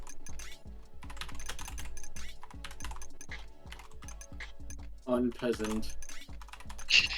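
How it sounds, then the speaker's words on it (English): Rapid clicking keystrokes on a computer keyboard in a typing game, a steady close clatter throughout, with a brief spoken word and a few game sound effects near the end. "You gotta get your typing speed up."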